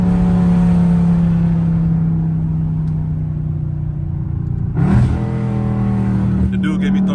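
A catless Dodge Scat Pack's engine rumbles loud and steady, revving high before a brief downshift blip and further acceleration, heard close up without talk.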